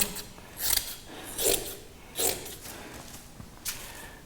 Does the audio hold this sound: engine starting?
no